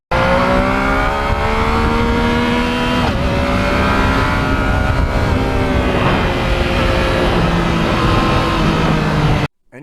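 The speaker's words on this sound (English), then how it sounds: "The muffler is quiet, but then all of a sudden you open it wide open and it changes." A Yamaha MT-09 motorcycle's exhaust roars at wide open throttle, a loud continuous engine howl with rising pitch sweeps that carries on for nearly ten seconds before cutting off abruptly.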